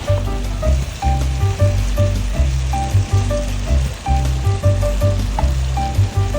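Chicken afritada being stirred with a splash of soy sauce in a hot pan, a close sizzle running under a strong rhythmic musical beat that pulses steadily throughout.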